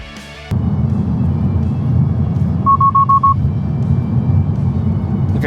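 A Tesla's lane departure warning sounds as a quick run of five or six short, evenly spaced electronic beeps over the steady low rumble of road and cabin noise while driving.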